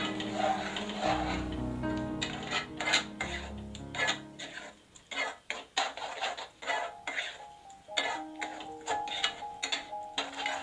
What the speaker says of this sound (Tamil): லோ ஃப்ளேம்லயே வச்சுட்டு நம்ம மாவை கிளறி விட்டுட்டே இருக்கணும்.